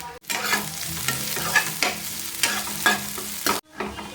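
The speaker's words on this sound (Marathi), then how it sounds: "त्याच पॅनमध्ये थोडंसं तेल घेते आणि हा कांदा आहे तो बाकी सगळं साहित्य छान परतून घेते" Onion sautéing in a little oil in a pan previously used for roasting coconut, a steady close sizzle broken by repeated scraping stirs of a spatula at an even rhythm, with no talk.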